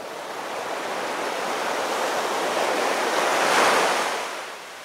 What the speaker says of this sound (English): just hearing the sound of the ocean can put you in a meditative state